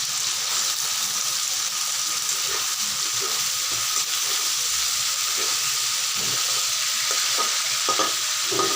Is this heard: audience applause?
no